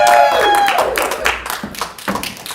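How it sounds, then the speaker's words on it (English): An audience claps for a comedy act. The loose, uneven claps start over a brief tonal ring and fade unevenly, with some voices mixed in. "let's give a big round of applause for Silly Stuff and Other Bits."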